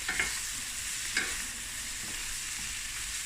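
Prawns cook in a hot pan with a steady broadband sizzle, close and moderately loud, with a few short clicks of a utensil against the pan.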